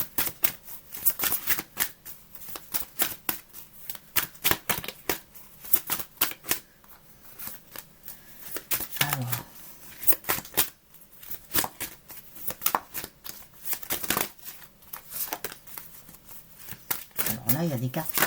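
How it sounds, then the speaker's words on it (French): Tarot cards are shuffled in quick, crisp bursts of riffling and slapping, with a few cards dropping, while a voice talks throughout. "Là, il y a des cartes qui tombent, alors je les prends quand même."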